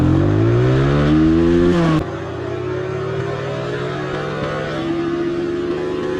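A TVS Apache RTR 160 2V motorcycle accelerates hard on an empty road, its engine note climbing steadily, dropping abruptly at a gear change, then pulling again in a loud, continuous drone.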